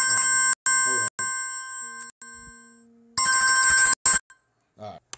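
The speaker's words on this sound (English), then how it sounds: "somebody called me on my phone" A phone rings with an incoming call in loud, bright repeated electronic tone bursts, stopping briefly and then resuming, with a voice talking over and between the rings.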